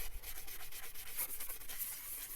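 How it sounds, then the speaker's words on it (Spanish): A brush scrubs dirt off a Sega Mega Drive 2 console casing, producing a steady, close, rapid scratchy rubbing with repeated strokes throughout, heard alone without any talk. "con el cepillo nos lo llevamos todo en un momento"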